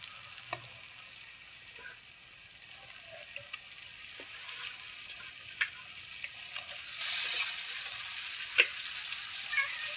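Fish sliding into a pan of sizzling masala gravy, a soft steady frying hiss with scattered sharp pops and ticks that swells louder toward the end, close by and without talk.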